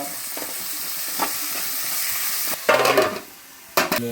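Onions, ginger and garlic sauté in a pan, with a soft steady sizzle broken by louder bursts of scraping and stirring, close and alone with no talking.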